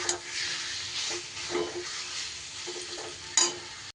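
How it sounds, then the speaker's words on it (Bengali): Potatoes frying in a pan are stirred and mixed with the other ingredients, giving a steady close sizzle with scraping stir strokes throughout and a sharper clatter near the end. "সব কিছু সুন্দর করে এভাবে আলুর সাথে মিশিয়ে নিয়ে"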